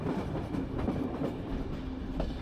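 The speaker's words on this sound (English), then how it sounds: "And as our train now has navigated its way out of Sofia station" A steady low rumble with faint rhythmic wheel clatter comes from inside a roughly 40-year-old Bulgarian express train as it rolls out of Sofia station, even and moderately quiet throughout.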